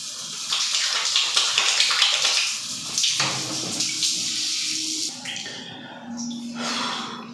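Water pours steadily from a tap while rinsing ginger lily flower shampoo out of hair, a continuous splashing hiss that shifts as the flow hits hair and skin, with a few faint breaths.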